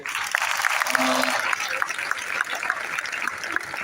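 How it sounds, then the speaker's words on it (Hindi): Applause from a gathered audience welcoming the Saudi Consul General, a dense continuous clatter of clapping with a voice briefly audible over it. "तो हम सऊदी काउंसिल जनरल को रिसीव करते हैं ज़ोरदार तालियों में।"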